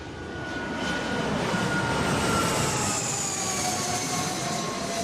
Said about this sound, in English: Vonnie hops on a private jet headed to Los Angeles.